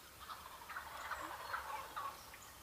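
Wild turkey gobbling on a spring morning hunt, a faint, distant rattling gobble with a few quick bursts carried over quiet outdoor background.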